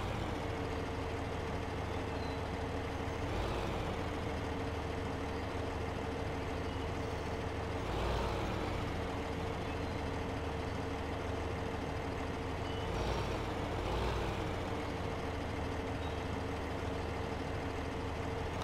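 A truck engine in Farming Simulator 15 drones loudly and steadily for the whole stretch, with a few brief surges in revs and no talking.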